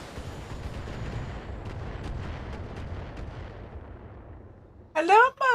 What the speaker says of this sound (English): That's a lot of mortars.